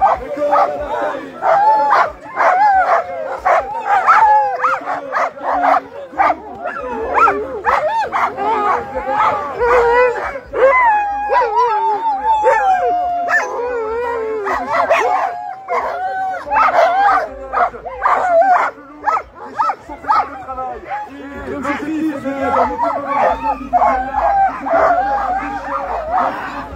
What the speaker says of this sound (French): c'est de montrer ses chiens, les malamutes, les chiens solides, les chiens costauds